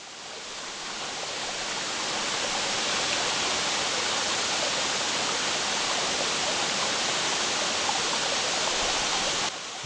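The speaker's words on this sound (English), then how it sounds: "Upper Priest Creek Falls. A hidden giant pouring straight out of the mountains." Upper Priest Creek Falls, a large mountain waterfall in the headwaters of Priest Lake, pours down in a steady, loud, close broadband roar that runs unbroken throughout, with no voices.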